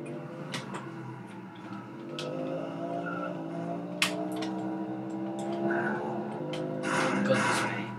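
A car in the Roblox game Vehicle Simulator skids and flips over, a steady engine drone with rising tonal whine, scraping bursts and brief sharp impacts throughout, under intermittent talk.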